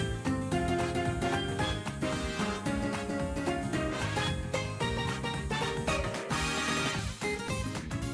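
Dense video game music from a remade Paper Mario Sticker Star song, full band with guitar, drums and bass, playing continuously and fairly loud with no talk over it.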